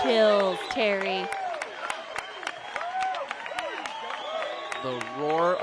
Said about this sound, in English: The roar of the crowd says it all.